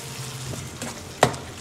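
A ground paste of mint leaves, coriander leaves, coconut and green chilli sizzles in a hot pan for kurma, a close, steady frying hiss with stirring and one sharp clank of a utensil.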